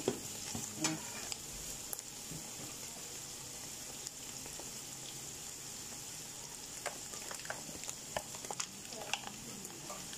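Garlic stirred and fried in a pan, a steady close sizzle with scattered scrapes and light clinks from the utensil, heard alone without talk.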